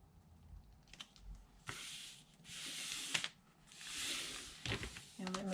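A paper liner piece, 12 by 6 3/4 inches, is rubbed and smoothed flat by hand during Easter basket making, giving soft close brushing swipes in several separate strokes.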